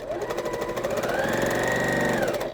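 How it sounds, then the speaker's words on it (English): A sewing machine stitches quilt pieces with a quarter-inch foot at a short stitch length, making a close, fast, steady mechanical chatter over a couple of seconds. "I am stitching a smidge under 2 on my machine here."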